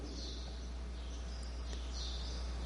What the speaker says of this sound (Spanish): Aquí se oyen en este momento los pajaritos